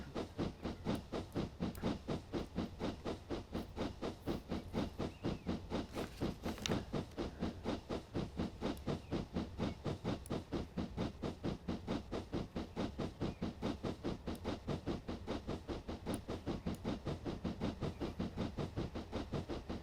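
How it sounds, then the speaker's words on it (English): A steam locomotive labours along in a Train Sim journey from Dublin to Cork, a steady rapid chuffing beat with constant hissing that runs unbroken and loud for the whole stretch, with no talk. "I realize steam engines are supposed to have huge amounts of torques at low speed"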